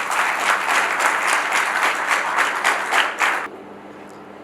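Audience applause honoring the DCI Cotonou La Doyenne and DCI Cotonou Élan chapters at an affiliation ceremony, a steady, fairly close burst of clapping lasting about three and a half seconds before cutting off into near silence.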